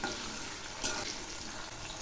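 Potatoes fry in a pan with a soft, continuous sizzle and a brief louder crackle midway, quiet and with no voices over it.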